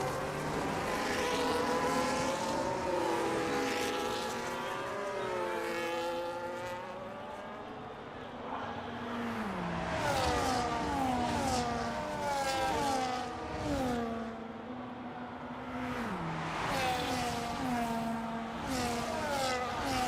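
F1 cars in the F1 25 racing game circle Las Vegas behind the safety car, several engines droning and rising and falling in pitch as they pass close by, steady and loud throughout with no talk.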